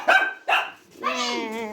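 An older dog barks sharply at newly arrived puppies indoors, two close, loud barks followed by a longer high whining yelp.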